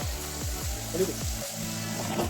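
Chicken masala with homemade chutney sautéing in a pan, village-style spicy chicken, a steady sizzle under repeated scraping stir strokes, with faint talk in the background.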